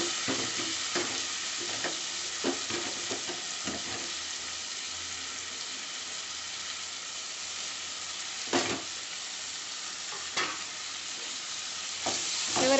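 Washed fenugreek leaves sizzling in a frying pan with tomato curry base, a continuous hiss broken by occasional stirring scrapes and clinks.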